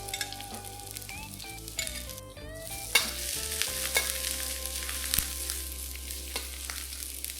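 Ginger, garlic, white spring onion parts and fermented black beans stir-fried in hot oil, loud continuous sizzling with scraping and clinks of a utensil against the wok, while a steady tonal hum runs beneath.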